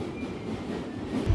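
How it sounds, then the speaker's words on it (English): A New York City subway train rumbles steadily, a continuous dense roar of wheels and carriage noise with a faint squeal, swelling slightly louder at the end. "New York's subway that works 24 hours a day in most circumstances is such an insightful cross-section of the city."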